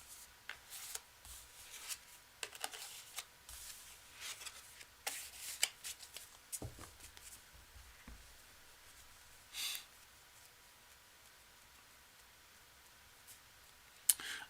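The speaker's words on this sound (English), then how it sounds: "I'm going to shuffle it up here." A deck of tarot cards is shuffled close up: a run of soft riffling and papery clicks in irregular bursts, with a sharper snap near the end and no talking.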